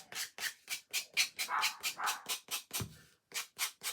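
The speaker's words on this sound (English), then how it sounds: "That's his pissed off bark." An angry dog barks outdoors in a fast, steady string of sharp barks, about a dozen in quick succession at moderate distance, with no one talking.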